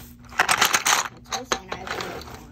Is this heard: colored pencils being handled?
yes